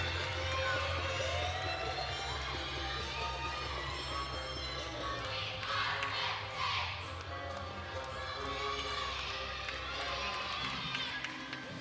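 Crowd noise at a college gymnastics meet between Nebraska and Penn State, a steady arena murmur with a swell of cheering in the middle, under a continuous low hum and some background voices.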